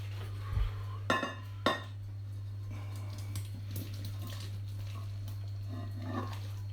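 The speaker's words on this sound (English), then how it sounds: "So let's see if I can get it all in the pot." Asda Essential sausages going into a pot, heard as a few sharp metallic clanks and knocks early on, followed by quieter scraping and rattling against a steady low hum.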